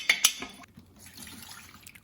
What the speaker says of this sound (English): that residue at the bottom, I am going to pour some water into there